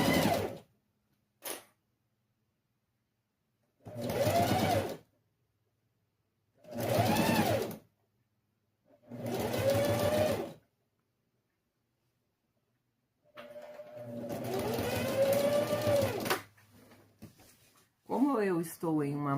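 A domestic sewing machine stitches a Bobbie Goods pencil case in three short, even motor bursts separated by silence, followed by a longer run, with a person talking briefly near the end.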